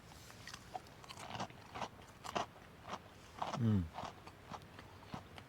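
Someone bites into crispy fried rainbow trout fish and chips at a campsite, crisp crunches and chewing coming close and fairly quiet, with low outdoor background noise and faint bits of movement.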